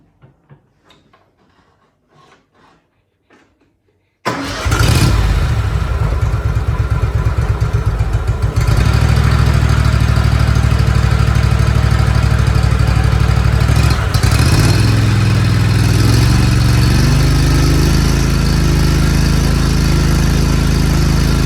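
A Kohler Command twin-cylinder engine, freshly fitted with a replacement carburetor, fires up after a few quiet clicks and runs loud and steady at a close, even roar. Its pitch shifts slightly partway through.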